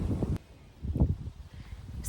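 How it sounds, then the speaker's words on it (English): Outdoor wind buffets a phone microphone balanced on a fence post, producing low, rumbling gusts that swell and drop in uneven bursts, close and muffled. "It's very windy."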